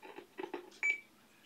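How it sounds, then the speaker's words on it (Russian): A Realistic PRO-2021 200-channel radio scanner gives a few short electronic beeps, the last one a clearer sustained tone, fairly close and quiet, with no speech. "Что-то он пикает вроде."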